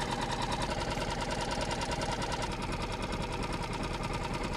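Fishing line strips off a reel behind a boat in a fast, even whirring buzz, with a steady motor drone under it throughout.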